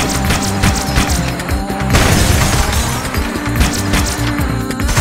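Needler supercombine explosion in Halo: Combat Evolved, a dense burst of shattering crystalline blasts and booming thuds crowding together, loud and close with a chaotic, overlapping rhythm.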